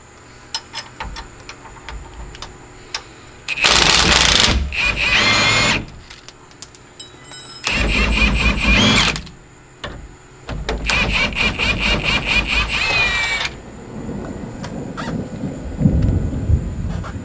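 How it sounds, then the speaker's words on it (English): A 17 mm wrench and socket working loose a shock mount bolt on a 2005–2023 Toyota Tacoma during a shock install: several loud bursts of rapid, buzzing tool rattle, each a second or two long, separated by short quiet gaps, close and clear with no talk. "we're going to use a 17 millimeter wrench and a 17 millimeter socket and give it some ooga dooga until it comes loose"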